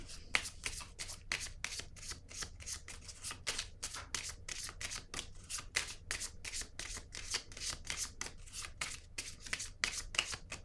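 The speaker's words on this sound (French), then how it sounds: "Je vais déposer une carte sur la carte de l'itinérant." Tarot cards being shuffled and handled in a rapid, steady riffling rhythm of crisp flicks that runs continuously, close and soft, with no talking.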